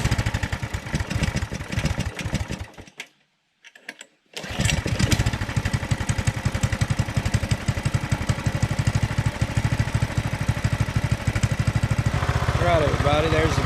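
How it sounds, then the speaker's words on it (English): A Coleman BT200X minibike engine runs steadily with a rapid, even putter, close and loud, briefly cutting out near the start before firing back up and holding a constant idle-like beat. "there's the bike running"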